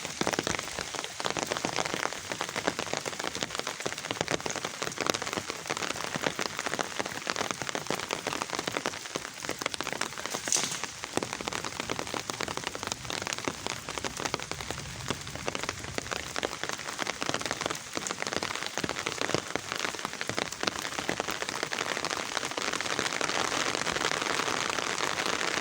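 Steady rain falls on a surface in outdoor weather, a dense continuous patter of drops with a few sharper isolated hits, holding at an even level for the whole stretch with no voices.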